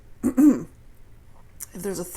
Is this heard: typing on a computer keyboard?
no